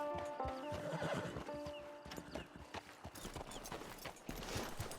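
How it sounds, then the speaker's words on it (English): Horse in the Red Dead Online video game whinnies loudly near the start, followed by steady clip-clop hoofbeats on the ground throughout, with faint ambient game sounds behind. "It's your horse."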